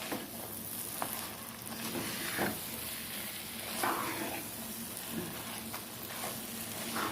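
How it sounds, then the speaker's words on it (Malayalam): A jackfruit dish cooking in a pan gives a faint, steady sizzle with occasional soft stirring strokes, quiet and even throughout. "ഇനിയുണ്ടല്ലോ നന്നായിട്ടൊന്ന് ഇളക്കി കൊടുക്കാം"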